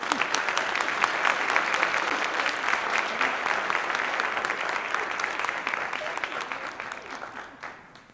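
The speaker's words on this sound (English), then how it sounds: "we wanted to just give her a quick round of applause" An audience at a school Founder's Day event gives a steady round of applause, dense continuous clapping that holds for several seconds before tapering off at the end.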